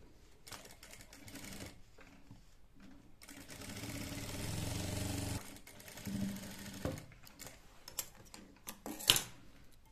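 Sewing machine stitching elastic into a child's salwar, a steady mechanical whir running in bursts with short pauses and a few sharper clicks near the end, close and moderately quiet, with no talk.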